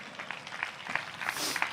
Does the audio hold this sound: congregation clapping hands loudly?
yes